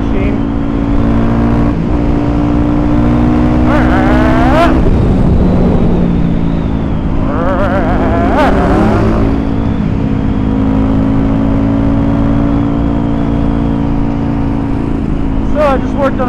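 An air-cooled engine, apparently a 1977 Harley-Davidson Shovelhead motorcycle with a sidecar, runs loud and steady in a garage with repeated throttle blips and revs. Voices talk over it.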